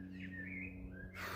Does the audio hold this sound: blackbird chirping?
yes